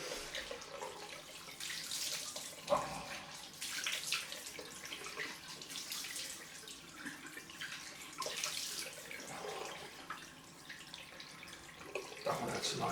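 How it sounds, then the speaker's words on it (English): Cold tap water runs steadily into a sink for a post-shave rinse, a continuous close hiss and splash with small shifts as hands move through the stream, and no talk over it. "Cold rinse time."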